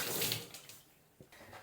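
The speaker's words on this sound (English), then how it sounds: "Throw some water on that so you can see the after." Water thrown onto freshly scrubbed bathroom tile grout lines, a faint brief splash and wash that trails off into quiet, followed by a small second splash near the end.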